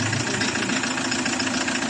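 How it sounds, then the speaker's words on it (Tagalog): A freshly assembled Hyundai D4CB diesel engine from a Bongo truck runs steadily at idle, loud and close, with a continuous rattling knock throughout. "ayaan lang natin ayaan lang natin maandar yung makina"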